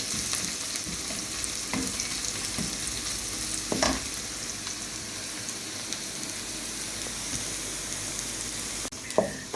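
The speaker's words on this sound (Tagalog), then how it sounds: "nagigisa ng sibuyas" Onion, garlic and ginger sautéing in a pan for a liver dish, giving a steady, even sizzle close by throughout, with a few soft utensil knocks and a brief clatter near the end.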